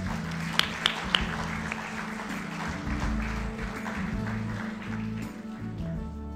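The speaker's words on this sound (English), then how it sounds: "Could we have another round of an applause," An audience at a Malaysian investment awards ceremony applauds, a sustained wash of clapping with a few sharp nearby claps at the start, fairly loud and steady for several seconds.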